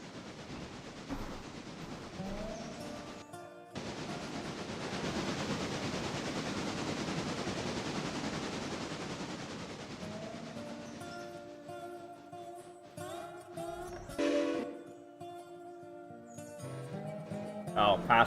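A passenger train rolls along in a railroad video game, a long steady rumble of wheels and carriages that swells and fades, with faint clicks and tones and a voice speaking near the end.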